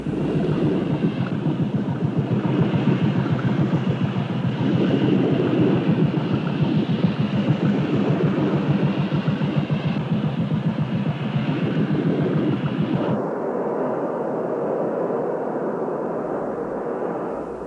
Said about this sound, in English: the launch crew cranks to life a fire pump attached to a water jet